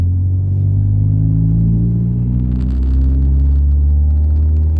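Honda Accord CD5 with a cat-back exhaust and EGR delete, its engine droning loudly at low RPM and then revving up toward VTEC as a deep, steady, close exhaust rumble.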